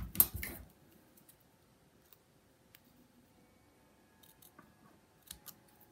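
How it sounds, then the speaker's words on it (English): Scissors snip through paper card stock while a Stampin' Up honey bee card is trimmed: one loud, close cut at the start, then near quiet with a few faint ticks and rustles. "So we'll move this to the edge and we will trim it."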